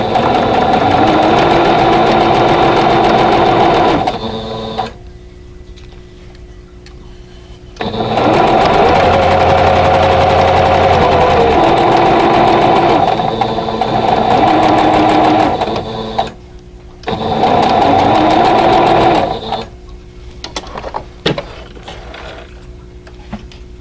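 Sewing machine stitching pieces of a vintage quilt block, including a bias-cut green piece, at a short stitch length: steady, loud mechanical whirring in three long bursts separated by brief pauses, with no talking.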